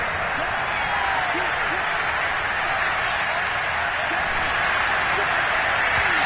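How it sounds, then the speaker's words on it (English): A stadium crowd at a Jacksonville Jaguars football game roars and applauds the defense, a dense, steady wash of clapping and cheering that holds evenly throughout without breaking. "How about some applause for the defense there?"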